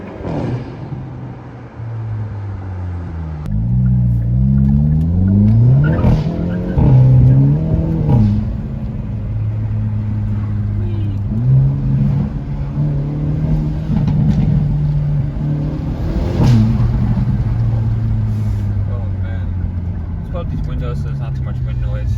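Hyundai Elantra N accelerating, engine and exhaust rising and falling through gears with shifts, heard from inside the car under continuous talking.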